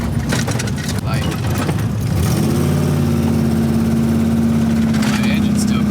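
A cold 1961 Chevrolet Impala engine runs close by, rough and uneven at first, then settles into a steady, louder drone with a rising note.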